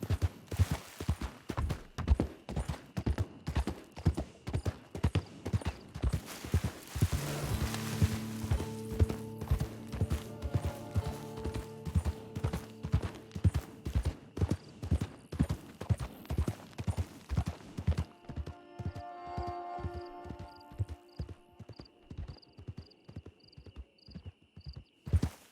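Horse hooves clip-clopping in the video game Red Dead Redemption 2, a steady, evenly paced stream of close hoofbeats running the whole time, with light tack jingling.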